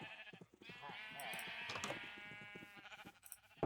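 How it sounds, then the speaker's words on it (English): Sheep bleating in the Minecraft video game, a sustained nasal bleat with layered overlapping calls, fairly quiet, over a low background. "I just want to look at my sheep."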